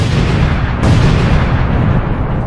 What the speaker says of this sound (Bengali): আমি অনেকগুলো স্টিকি বম লাগিয়ে দিয়েছি, এবার এগুলো ব্লাস্ট করতে হবে।